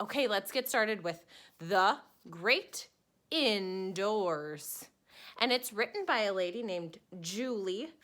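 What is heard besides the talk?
No everyday noise stands out behind the speech.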